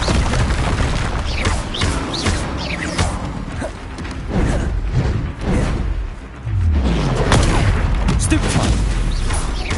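Spell blasts and magical combat in Hogwarts Legacy, with repeated booming impacts and crackling bursts layered over a dense, continuous game soundtrack, loud throughout.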